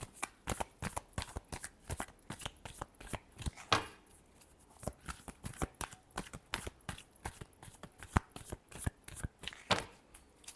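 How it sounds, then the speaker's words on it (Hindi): A deck of tarot cards is shuffled again and again in quick rhythmic bursts of riffling and slapping, close and clear, with brief pauses between runs. "Last shuffle."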